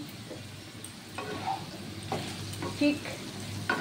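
Cubes of elephant foot yam and potato fry in a covered pan, giving a steady soft sizzle with occasional stirring scrapes and clinks close by, and no talk over it.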